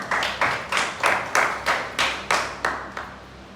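An audience in a church gathering claps in about ten distinct, evenly spaced sharp claps, fairly close and clear, with no voices.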